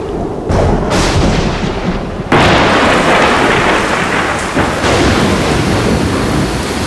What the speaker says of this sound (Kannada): ಏ ಜೋರ್ ಮಳೆ ಬರೋ ತರ ಇದೆಯಪ್ಪ.